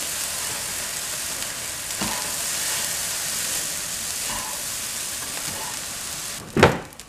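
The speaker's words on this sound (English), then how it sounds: "Sort of try to spread it over fairly evenly and then mix it through the rice again." Lemon juice and zest being mixed through rice in a pan give a steady sizzling hiss, with soft stirring scrapes and a brief, louder scrape near the end.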